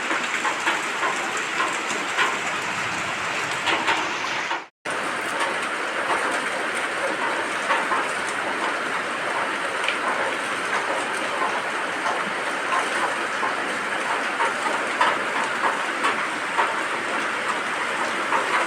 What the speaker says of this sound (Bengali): এত বৃষ্টি হচ্ছে আর সেই সঙ্গে বাজ পড়ছে